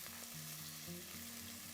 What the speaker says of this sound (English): add it to the oil and butter mixture that we have going here. So we want to saute this